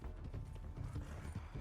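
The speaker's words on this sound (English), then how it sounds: "His loyal horse appears galloping towards him." A horse gallops in a Red Dead Redemption 2 cutscene, its hooves drumming in a steady, muffled rhythm of low thuds, fairly quiet and without talk.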